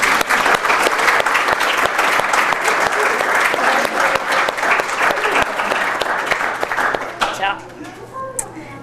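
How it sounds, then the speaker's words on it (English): An audience at a 4-H fashion revue claps in a dense, even burst of applause that carries on for several seconds, then thins out and dies away at the end, with a voice faintly under it. "So let's give Miss Rosanna Peterson a big round of applause."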